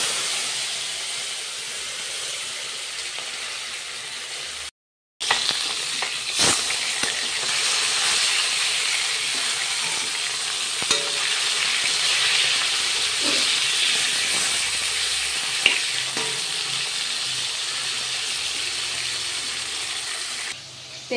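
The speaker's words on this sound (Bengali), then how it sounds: "তো এই যে এবার মাছগুলো দিয়ে দেবো এক এক করে।" Fish pieces frying in hot oil in a home kitchen give off a steady, loud hiss that goes on throughout. The hiss drops out briefly once near the start, and a few faint clinks sit in the background.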